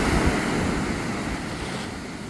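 Sea waves wash onto a shore at a La Union resort, a steady roaring surf with wind noise buffeting the microphone, fading slightly toward the end.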